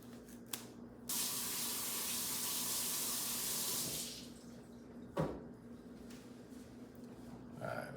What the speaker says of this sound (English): We're going to go ahead and start off by washing our carrots.